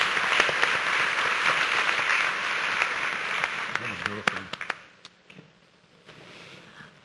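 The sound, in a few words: applause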